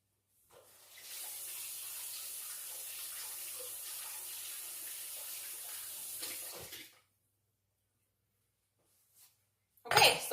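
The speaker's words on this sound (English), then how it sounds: "And to rinse my spoon off." Kitchen tap water runs steadily for about six seconds to rinse a spoon, a close hissing splash. It cuts off, followed by near silence and a brief clatter at the end.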